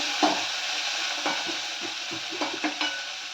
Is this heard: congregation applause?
no